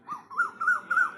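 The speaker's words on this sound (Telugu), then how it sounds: "ఇప్పుడిప్పుడే స్వరం వస్తున్న కోకిల" A young Asian koel calls from a neem tree, with short rising whistled notes that are still immature, repeated about four times in quick succession. The notes sound close and clear against a quiet background.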